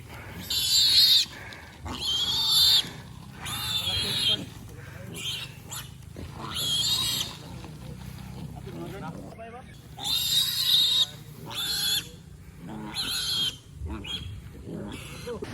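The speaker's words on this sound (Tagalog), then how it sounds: "Ayan ang baboy ni Ling." A farm pig with its piglet sounds off in loud, harsh bursts of squealing and grunting, repeating every second or two close by, with quieter rustling between calls.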